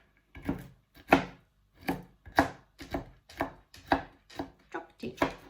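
Nuts are chopped into decent-sized bits with a knife on a wooden board, about ten sharp, evenly spaced thuds with quiet gaps between strokes, close and clear with no talking.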